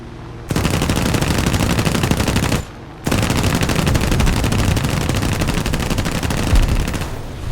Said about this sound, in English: Love the American 50 cals for starting fires.